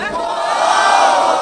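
A concert crowd shouting together on cue at a live show, a loud massed roar of voices that swells and holds steady, close and filling the space.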